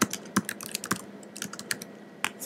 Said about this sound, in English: Other things you can do is automate your tweets simply by typing in